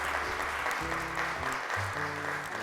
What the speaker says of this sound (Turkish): alkışlarla çağırıyorum